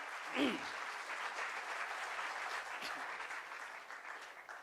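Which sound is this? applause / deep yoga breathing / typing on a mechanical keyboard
applause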